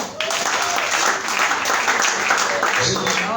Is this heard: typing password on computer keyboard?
no